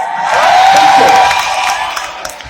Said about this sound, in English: You're supposed to cheer because it's Liverpool.